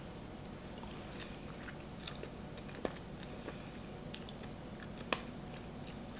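Nugget ice from a GE Profile countertop ice maker is chewed up close, a soft steady crunching with a couple of sharper crackles over low background noise.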